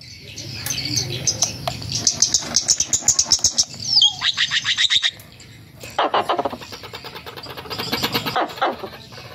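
A recorded quất bird call played back as a lure, with rapid repeated chirps and trills in bursts, loud and close, over a faint low hum and a few clicks.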